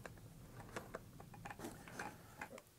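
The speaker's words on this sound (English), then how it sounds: "using your ready-made RC 8mm wrench, you'll want to tighten this down until the prop can't spin freely on the shaft" A propeller nut on an RMRC Recruit RC plane is tightened onto the shaft with an 8mm wrench, giving faint, irregular metallic clicks and ratchet-like ticks over a quiet background.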